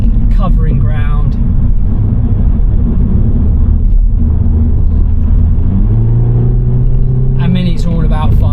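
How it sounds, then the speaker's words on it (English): A 2024 Mini Cooper S is driven hard on a B road, its engine droning and revving loudly through a corner with steady road rumble, while someone talks over it. "A Mini doing what Minis do best. Chucking round a corner, throwing into a B road,"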